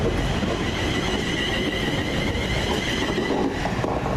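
A passenger train on Glasgow's Cathcart Circle line rolls steadily along the track with a constant rumble, a high metallic squeal from the wheels drifting over it.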